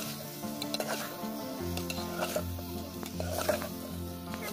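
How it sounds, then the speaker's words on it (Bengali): Mutton pieces being stirred and fried with chili powder and turmeric in a pan, with soft sizzling and scraping strokes repeating steadily over a faint musical background. "একটুখানি মশলার সঙ্গে মাংসটাকে ভালোভাবে নাড়াচাড়া করে কষিয়ে নেব।"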